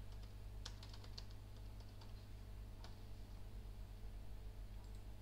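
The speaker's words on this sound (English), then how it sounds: "just type your message here." Soft, irregular keystroke clicks from a computer keyboard as a text message is typed, faint and close, over a steady low electrical hum.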